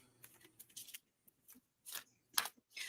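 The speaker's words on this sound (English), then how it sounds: "we have to really, really shuffle every single thing" A deck of tarot-style oracle cards being thoroughly shuffled, giving soft bursts of riffling and sliding card noise in short irregular spurts, close and fairly quiet with no talk.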